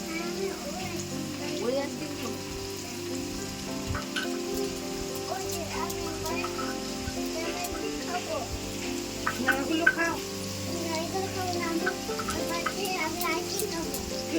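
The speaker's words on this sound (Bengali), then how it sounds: "আলুটা ভাজা হোক" Potatoes fry in oil with a gentle, steady crackle like light rain, under quiet voices.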